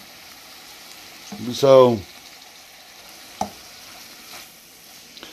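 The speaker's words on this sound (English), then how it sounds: "I'm gonna let these sit here and simmer for a little bit and keep stirring." Bacon and green beans fry in a pan, a steady low sizzle running throughout, with a brief voice near the middle and a sharp utensil knock against the pan a little later.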